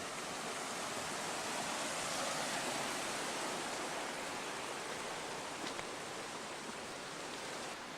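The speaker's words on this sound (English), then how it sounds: "There is some flowing water there" Steady broadband rush of flowing water in Pine Creek, a creek in San Isabel National Forest, running continuously and fairly close with no voices over it.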